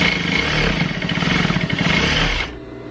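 A sewing machine stitches fabric for a small sleeping bag, a close, fast, steady mechanical whirring with a rapid rhythmic chatter that stops abruptly near the end, no talking.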